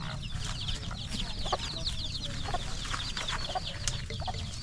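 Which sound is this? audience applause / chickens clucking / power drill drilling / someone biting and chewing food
chickens clucking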